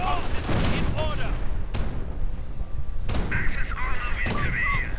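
Ostwind flak panzer firing in Company of Heroes, a dense broadband burst of autocannon gunfire with sharp repeated thumps and explosions, loud and close, recurring in bursts under a commentator's voice.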